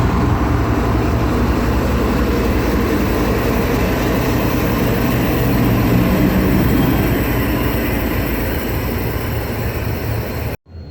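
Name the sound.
NLC EMD diesel locomotive 7225 passing as light engine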